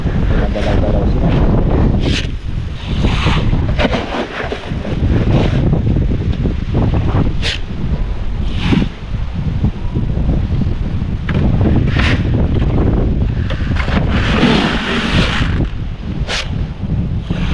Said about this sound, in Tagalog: Habagat na hangin to.